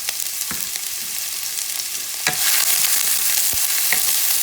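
Chopped onion, half a big onion, frying in a pot for island-style goat stew, with a soft sizzle and occasional stirring scrapes that swell into a louder, brighter hiss after a couple of seconds.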